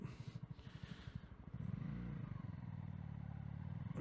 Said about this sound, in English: And let me just turn the bike.